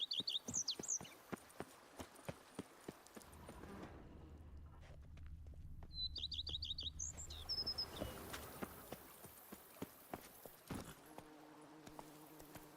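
Roach the horse clip-clops through a video game world, hooves striking in a steady walking rhythm with brief pauses, birdsong chirping now and then above the footfalls.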